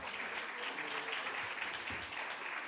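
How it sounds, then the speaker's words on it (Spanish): A presentation audience applauds a speaker being introduced at a talk on emotions and health, steady dense clapping filling the whole stretch, moderately distant and even in level. "Un aplauso para José Manuel Morales."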